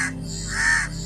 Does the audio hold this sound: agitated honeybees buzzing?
no